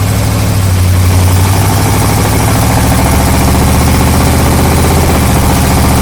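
A 1974 Corvette Stingray engine drones steadily under load while driving, a loud, deep, unbroken rumble with constant vibration and no talking.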